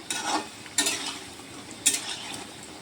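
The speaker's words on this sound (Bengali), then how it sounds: "আর একটু ভাজা হবে, আর একটু ভাজা হলে আমি তুলে ফেলতে পারবো তেল থেকে।" Chhena sweets fry in oil for a homemade Bengali mishti, giving a steady close sizzle broken by three sharp stirring scrapes of a utensil against the pan.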